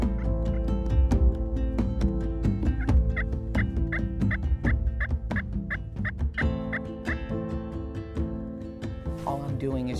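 A hunter works a turkey call, producing soft, easy yelps imitating a female turkey in a run of short repeated notes, with other outdoor sounds and gobble-like calls mixed in.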